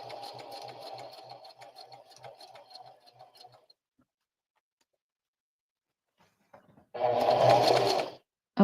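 Sewing machine stitching a handmade poppet in quick rhythmic bursts, a pause of silence, then another fast, louder run of stitching.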